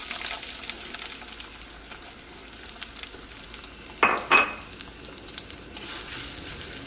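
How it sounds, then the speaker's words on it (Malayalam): Sliced onions frying in oil in a pan for a curry give a steady soft sizzle throughout, with a brief louder hiss and stir burst midway, heard alone. "സവോള ചേർക്കാണ്."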